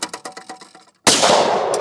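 A 20 gauge shotgun fires once at a clay target, a sudden loud close blast with a lingering outdoor rumble, preceded by a run of faint rhythmic metallic clicks.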